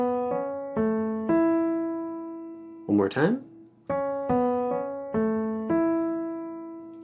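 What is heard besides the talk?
ear-test melody of major pentascale notes mi re mi do so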